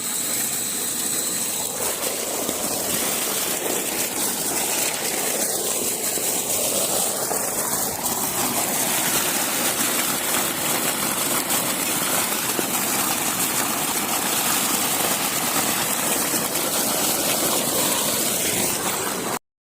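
A motor runs at a solar panel setup, giving a steady, continuous mechanical drone with a faint ratcheting texture, loud and unbroken throughout with no talking.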